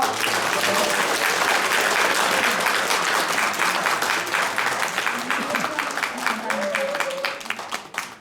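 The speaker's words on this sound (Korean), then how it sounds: "다시 한번 박수를 부탁드립니다" An audience at a political party's New Year gathering breaks into sustained applause, dense clapping that slowly thins toward the end, with a few voices talking underneath.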